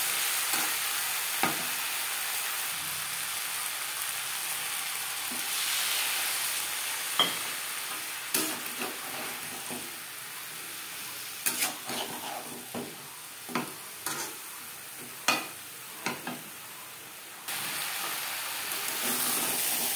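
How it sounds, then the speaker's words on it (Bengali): Potato and jackfruit with spices are sautéed in a pan, a soft continuous sizzle and hiss overlaid with scattered spatula scrapes and taps, close by and without speech. "মশলার সাথে আলু ও এঁচড় বেশ ভালো করে কষিয়ে নেওয়ার পর দিয়ে দেবো জল।"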